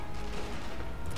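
Gunfire in the sniper video game Sniper Elite V2 comes as a dense burst of rapid shots and booms, loud and close, filling the whole short moment without talk.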